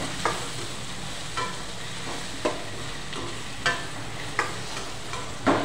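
Eggplant cashew masala curry being stirred in a frying pan, a steady sizzle with six evenly spaced scraping strokes of the spoon, close and alone.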